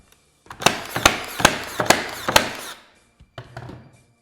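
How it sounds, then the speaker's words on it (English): Link nail nailer firing rapid fire, a quick series of about six sharp, loud cracks roughly half a second apart, followed by a short pause and a few fainter knocks and handling noises. "I've got both of these nailers set up to rapid fire"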